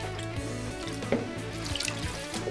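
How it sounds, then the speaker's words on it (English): Tap water runs steadily into a pot of stock and rice for Nigerian fried rice, a continuous splashing pour heard up close with a few brief clinks, no talking. "So I'll add a little more water."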